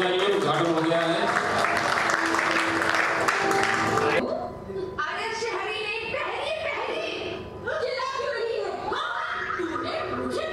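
Loud applause and cheering from the crowd at the launch of the Hindi web series Problem No Problem, dense for four seconds, then giving way to voices and laughter with lighter clapping underneath.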